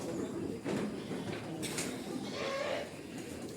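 Goats ready for mating, calm after feeding, make faint bleats over steady background noise in a pen.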